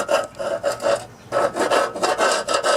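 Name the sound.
scraping mower deck with putty knife or chisel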